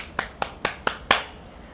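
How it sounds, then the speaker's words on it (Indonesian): Five sharp, evenly spaced hand claps from a church congregation ring out close and crisp in a quick steady rhythm, then fade into quiet room tone. "Tepuk tangan buat Tuhan Yesus."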